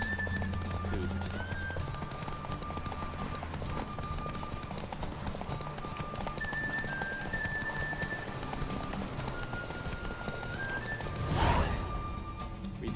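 A horse gallops in The Witcher 3 video game, steady clip-clop of hooves under game music and effects, with a brief whooshing swell near the end.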